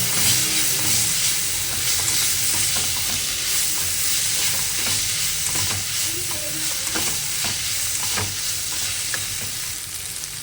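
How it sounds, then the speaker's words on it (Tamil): Tomatoes with a little turmeric sizzle and fry steadily in a hot pan for a puffed rice upma, a continuous hissing crackle broken by scraping stir strokes, close and alone with no voices. "தக்காளி நல்லா கொஞ்சம் உடையிற மட்டும் வணக்கிக்கலாம்."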